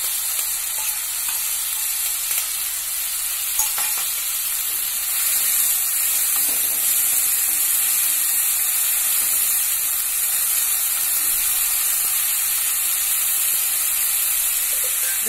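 Soaked moong dal frying in a hot pan for a radish sabji, giving a steady bright sizzle with faint stirring scrapes throughout, loud and close, with no voices.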